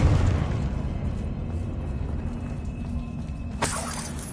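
A Confringo explosion spell goes off in Hogwarts Legacy, a loud sustained fiery rumble and crackle with a sharp burst near the end, no talking over it.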